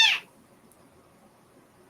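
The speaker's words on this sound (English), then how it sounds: "he just constantly meows." A stray newborn kitten gives a short, high meow right at the start, then near silence follows, with the start of another cry cut off at the very end.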